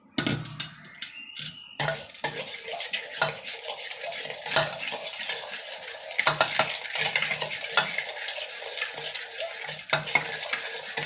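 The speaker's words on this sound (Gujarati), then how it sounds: "જ્યાં સુધી ખડી સાકર અને કેસરના તાંતણા અને દહીં મિક્સ ન થઈ જાય ત્યાં સુધી આપણે એને ફીણવાનું છે" A spoon stirs and whisks yogurt with rock sugar and saffron strands by hand. The utensil clinks and scrapes against the bowl with rapid repeated strokes, close and fairly loud, and no one speaks.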